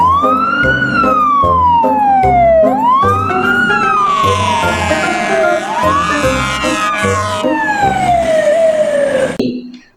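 A toy fire truck sounds its electronic siren loudly and continuously, wailing up and down in repeated sweeps alongside a stuttering toy horn-like pulse, ending abruptly.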